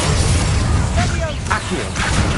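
Confringo fire spells cast in Hogwarts Legacy, a few bursting blasts in quick succession over a dense, continuous game soundscape with some voice-like tones mixed in.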